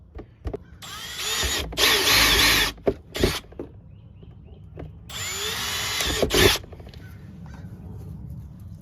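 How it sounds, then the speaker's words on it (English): Electric drill boring small holes into the plastic fender of an EZGO TXT golf cart, two loud whirring bursts of a couple of seconds each, separated by quieter shuffling and tool handling nearby. "I'm just going to take my drill and drill 2 small holes in the plastic fender right here."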